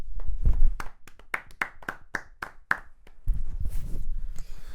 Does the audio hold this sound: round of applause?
yes